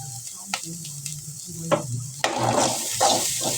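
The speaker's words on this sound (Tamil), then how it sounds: "பெருங்காயம் போடுறேன் பெருங்காயத்தூள் நல்லா வதங்கி வச்சுக்கேன்" Asafoetida powder sizzles in hot oil in a pan, a steady close crackle with a few sharp stirring clicks and a louder burst of frying toward the end, no voices.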